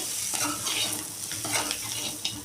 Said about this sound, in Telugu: ఫైనల్ టచ్ కొత్తిమీర ఇలా వేసేసి కలిపేస్తే